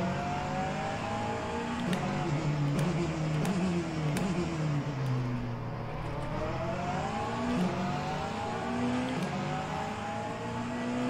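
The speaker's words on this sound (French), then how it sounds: "Le son de cette caisse, incroyable." An Alpine Hypercar engine in the racing game rFactor 2 revs and shifts, pitch rising and falling with each gear, accompanied by brief tire squeals, with no talking.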